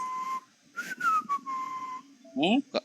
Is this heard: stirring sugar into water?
no